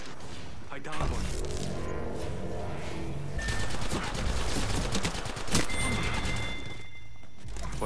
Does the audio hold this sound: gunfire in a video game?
yes